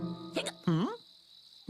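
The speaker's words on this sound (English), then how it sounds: "Hey, you've got the hiccups." A cartoon character hiccups in a sleepy jungle camping scene, a couple of short squeaky vocal hics with bending pitch, close and clear, with a thin steady insect-like hum running underneath.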